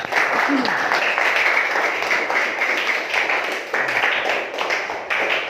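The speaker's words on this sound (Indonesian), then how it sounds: "kita aplaus dulu, beri semangat kepada Subhan" A classroom of students claps for a classmate after his demonstration, dense and continuous applause near and loud throughout, with a few voices mixed in.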